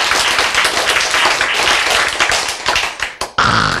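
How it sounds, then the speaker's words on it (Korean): A lecture audience claps together in a sustained, dense burst of applause that carries on steadily, thins briefly near the end, then swells again. "박수 한번 칩시다."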